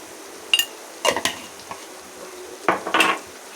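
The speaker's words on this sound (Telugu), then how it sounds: "కారం మొత్తం పట్టాలి కాబట్టి మంచిగా మిక్స్ చేసుకోవాలి" Salt and chilli powder being mixed in a metal pot, a few separate clanks and scraping knocks of a spoon against the vessel in irregular bursts, close and fairly loud between quiet gaps.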